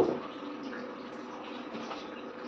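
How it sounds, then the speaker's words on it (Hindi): Water poured into ground melon seed paste and strained, a steady soft splashing and trickling of liquid throughout, close and fairly quiet. "अब इसको थोड़ा सा पानी डालकर हम इसे छान लेंगे"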